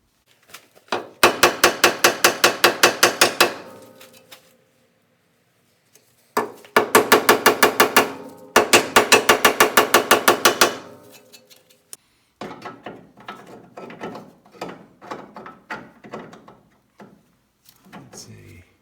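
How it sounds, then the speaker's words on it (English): A hammer taps on the rusty frame horn of a 1973 VW Thing in loud, rapid bursts of closely spaced metallic strikes, then gives way to quieter, more scattered taps. "I'm going to tap it more with the hammer."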